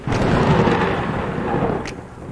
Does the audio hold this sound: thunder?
yes